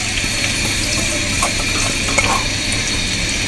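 Onions fry in hot oil in a pan for mutton korma, a dense, loud, continuous sizzle with faint stirring scrapes and clinks mixed in, heard close with no voices.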